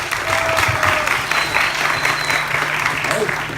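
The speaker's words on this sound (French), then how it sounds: "On l'applaudit très fort." A crowd at a live hypnosis show claps loudly and steadily throughout, a dense, close round of applause with faint voices mixed in.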